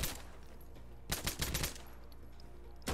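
Gunfire in the video game Insurgency Sandstorm: a burst of several rapid loud shots in the middle, then a single shot at the end, over a low background hum.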